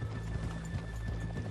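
Horses clip-clopping in Red Dead Redemption 2, their hooves beating in a quick, regular rhythm close by for a brief moment, with no talk.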